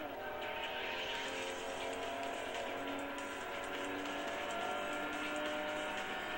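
Nissan S13 racing in the video game Import Tuner Challenge, its engine droning steadily at high revs along a straight, fairly faint and unbroken throughout.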